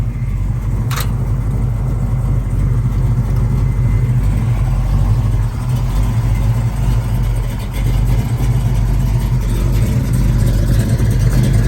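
A 1970 Chevrolet Chevelle fitted with a 468 engine runs loud and close with a deep, steady idle that rumbles continuously and has slight shifts in pitch, with no talking.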